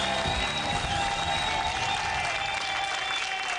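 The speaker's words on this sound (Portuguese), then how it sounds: "Uma salva de palmas para eles." A Portuguese TV game show studio audience gives the contestants a round of applause, a dense, loud, continuous clapping that holds steady throughout.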